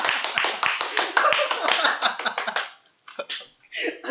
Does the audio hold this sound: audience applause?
yes